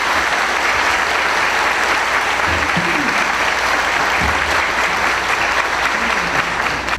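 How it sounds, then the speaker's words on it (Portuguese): A church congregation at a São João Batista feast novena in Prudentópolis applauds to welcome a priest, steady dense clapping from many hands, loud and continuous throughout. "vamos recebê-lo com a salva de palmas"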